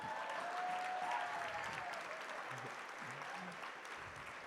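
Audience clapping for a performer at a bilingual parents' summit entertainment event, a steady wash of applause heard faintly from a distance, continuing evenly throughout.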